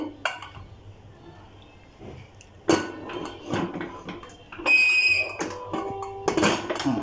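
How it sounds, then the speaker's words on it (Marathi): Several sharp metallic clanks and scrapes of a pressure cooker lid being fitted and closed for cooking jeera rice, close by, with quieter kitchen rattling in between. "मी झाकण लावते।"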